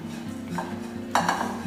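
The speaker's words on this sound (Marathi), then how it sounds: "याला आता छान तांबूस रंगावर भाजून घ्यायचं आहे" Grated coconut is dry-roasted in a pan until browned, heard as soft scraping with a low background hum, then a louder burst of clinking spatula strokes against the pan near the end.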